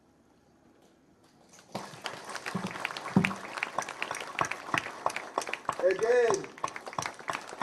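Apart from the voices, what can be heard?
audience applause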